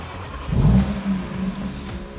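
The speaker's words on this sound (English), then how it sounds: "Okay, let's start the engine." A 2022 Audi RS3 8Y engine turns over and fires with a low rumbling rev that settles into a steady idle, heard close from inside the cabin.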